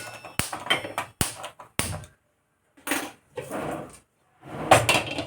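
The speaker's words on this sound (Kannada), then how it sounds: "ಈಗ ನಾನು ಬಾಣಲಿನ ಇಟ್ಕೊಂಡಿದ್ದೀನಿ ಸ್ಟವ್ ಮೇಲೆ." A frying pan is set down on a home kitchen stove, giving several sharp metallic clanks and knocks in a short irregular burst, then a pause and more clattering handling nearby.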